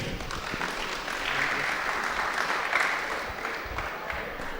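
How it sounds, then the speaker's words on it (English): An audience at a science quiz event in Goa claps for a spot prize winner, a sustained burst of many hands clapping that swells in the middle and carries on steadily, with a voice faintly underneath. "Give him a big hand."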